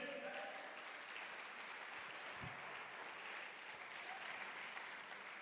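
A church congregation claps together in a soft, distant, steady patter that runs evenly for several seconds without a break.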